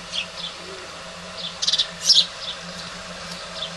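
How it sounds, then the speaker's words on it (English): Gull calling in short sharp bursts, a quick cluster of cries followed by a louder squawk, moderately close over a quiet background. "Keep an eye on that gull."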